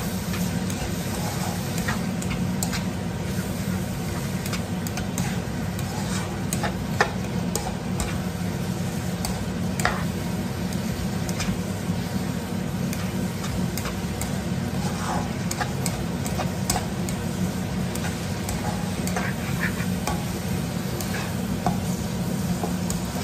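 Garlic and onion stir-fried in a pan, with a steady bed of sizzling and the scrape of stirring running throughout, close and continuous, with no talking.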